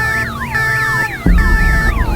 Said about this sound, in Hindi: अचानक पूरे पार्किंग लॉट में गाड़ियों के अलार्म बजने लगे,